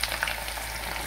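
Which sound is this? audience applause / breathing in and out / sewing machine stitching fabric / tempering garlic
tempering garlic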